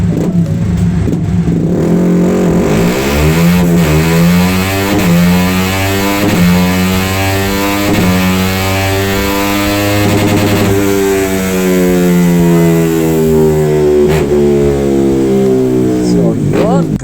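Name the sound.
remapped Honda Winner X motorcycle engine revving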